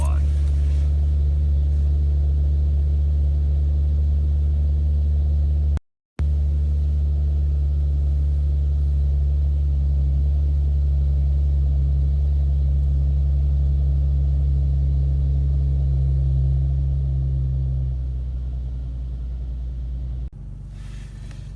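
Infiniti Q50S sedan with Z1 slotted rotors front and rear, heard from inside with all windows closed: a steady, loud low engine and road rumble fills the cabin, broken by a brief dropout, then easing slightly near the end.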